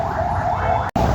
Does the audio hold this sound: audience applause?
no